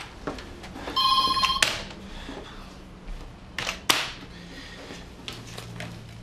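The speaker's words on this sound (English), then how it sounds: "Sean, pick up the phone." A telephone rings in a home, one burst of electronic trilling followed by scattered knocks and rustles, with no voices over it.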